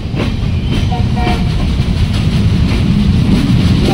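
A passenger train runs along the tracks in steady, loud rumbling motion, with continuous wheel and carriage noise filling the space from start to finish and no clear horn.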